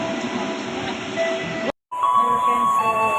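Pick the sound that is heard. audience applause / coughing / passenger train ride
passenger train ride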